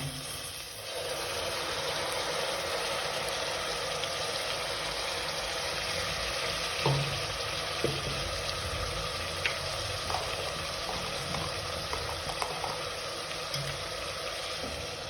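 Ground tomato goes into a hot pan for chicken palav and is stirred while it fries, giving a steady loud sizzle and hiss with a few scattered scrapes and clinks of stirring.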